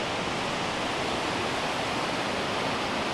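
Steady, dense rushing of the Reekie Linn waterfall fills the whole clip, a constant broadband roar with no breaks and no voices.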